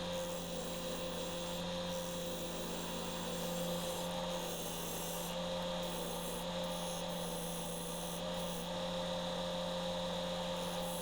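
A wood lathe spins at 1400 RPM while a chisel hollows out an elm stump bowl, giving a constant humming drone with rough scraping and rasping layered over it, steady throughout with no talk.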